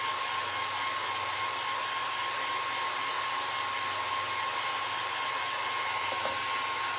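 Hair dryer blowing on painted Dollar Tree wooden crates and dice, a close, loud, steady whooshing roar with a constant motor whine, unbroken and alone throughout.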